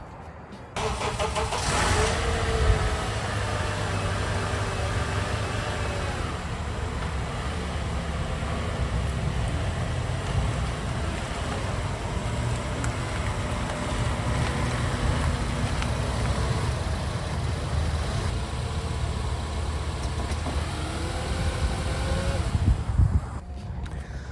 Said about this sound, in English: hear how crazy my car sounds once I turn it on